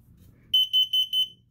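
Smoke alarm sounding during a routine monthly test, four loud, shrill electronic beeps in quick succession after a moment of quiet.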